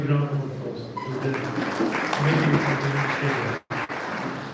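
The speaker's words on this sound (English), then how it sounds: "we give a big round of applause to the" Applause breaks out for a committee at a community security and safety team launch, a broad sustained round of clapping filling the room beneath a speaking voice.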